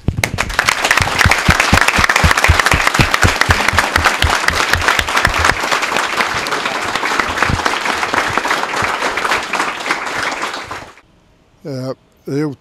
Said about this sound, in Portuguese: uma grande salva de palmas ao nosso grande líder